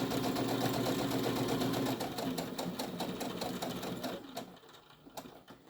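A sewing machine runs steadily while stitching a credit card pouch, then slows and stops as it nears a corner, leaving a softer intermittent mechanical patter at the end.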